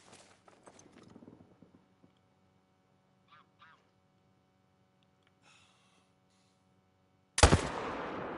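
A hunting video game rifle fires one sharp, loud shot near the end, after a long quiet stretch with faint chirps and light background ambience.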